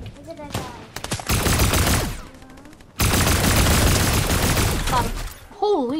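Bursts of rapid gunfire from a Fortnite trios match, loud and dense in two long volleys separated by a brief drop, with players talking over the shooting.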